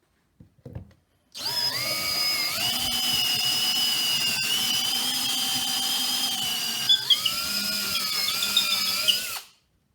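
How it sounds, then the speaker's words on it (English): Power drill with a wide bit enlarging a hole in a homemade wooden mace, starting after a few soft knocks and then whining steadily and loudly for about eight seconds, the pitch dipping under load before it winds down. "Now we're going to use this drill bit to help make the hole bigger."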